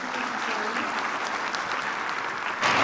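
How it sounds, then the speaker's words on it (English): Applause from the audience at a gender equality certification awards ceremony, steady dense clapping filling the room at moderate level, swelling slightly louder near the end. "A round of applause for Chief Gender Monitor."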